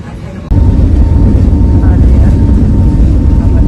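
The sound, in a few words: airplane cabin engine noise before takeoff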